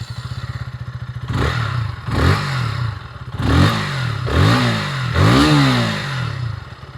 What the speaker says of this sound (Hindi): एग्जॉस्ट के साउंड मैं आपको सुना देता हूँ। So now let's crank the engine.